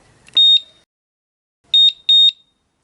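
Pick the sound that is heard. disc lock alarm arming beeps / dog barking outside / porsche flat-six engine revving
disc lock alarm arming beeps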